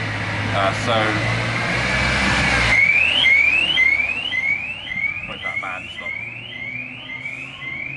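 A repeating electronic siren sweeps upward again and again over steady street noise in Camden, London, loud and nearby, while someone speaks briefly.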